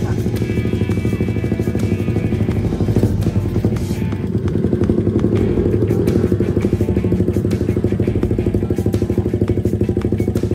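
Motorcycle engine idling and revving up close at Tarlac Circuit during a track day, a loud rough throbbing drone that swells midway and holds steady, with no talk over it.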